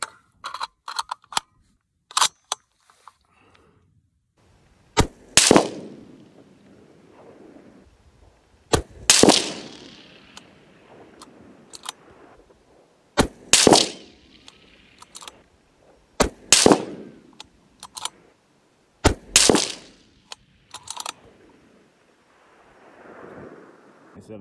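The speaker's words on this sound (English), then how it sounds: "Okay, that was 5 shots with the 6 ARC." Five rifle shots from a 6mm ARC firing factory ammunition at a 100-yard target, each loud, sharp crack spaced a few seconds apart outdoors, with smaller clicks and handling noises between them.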